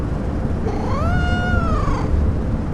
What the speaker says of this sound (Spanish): Los maullidos de gatos resonaban por todo el estudio, como si algo inhumano estuviera presente.